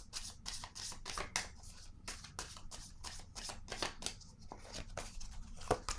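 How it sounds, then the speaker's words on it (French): Oracle cards from an animal card deck being shuffled and drawn, a rapid run of close papery riffles and flicks that continues steadily throughout, with no voice. "je vais piger une carte animale pour cette personne"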